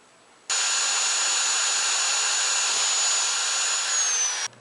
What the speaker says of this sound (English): Drill the hole at least 5/16 of an inch away from the edge of the cap